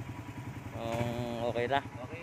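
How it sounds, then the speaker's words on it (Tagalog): An R150 motorcycle with a carburetor idles during a test run, its engine chugging steadily under a couple of brief spoken words, and it rises in a short rev near the middle. "testingin niya yung kanyang motor."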